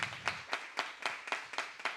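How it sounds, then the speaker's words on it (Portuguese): A small group applauds at a youth council session, claps landing in a loose, fairly regular rhythm at moderate volume, with no talking. "Vamos aplaudir"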